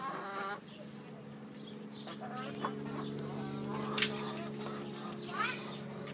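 A broody hen clucks in short low bursts over a steady mechanical hum, a few sharper squawks standing out, fairly faint and near.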